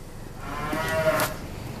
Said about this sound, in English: Are the cows making noise?